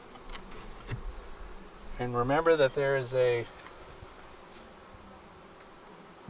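Honey bees buzz steadily throughout a Langstroth hive inspection during a beekeeper field exam, their drone close and constant, while a voice talks over the middle stretch.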